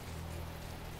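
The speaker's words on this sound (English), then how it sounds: "And it's raining again." Rain falling in The Talos Principle video game, a steady dense hiss of drops at a soft, even level.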